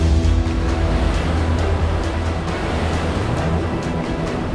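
Cyclone Biparjoy brings strong winds and crashing sea waves, a dense continuous roar of surf and gusts with a deep rumble beneath and no clear breaks.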